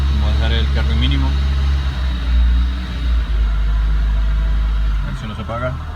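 A Renault Logan engine idles after a cold start, its steady low rumble sitting close and loud throughout, with the idle wavering slightly as it struggles. A voice speaks over it at times.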